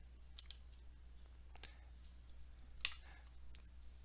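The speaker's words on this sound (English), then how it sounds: "I'm going to click on the link" Mouse clicks on a Zoom meeting link, a few sharp faint clicks spaced over several seconds against a quiet room hum.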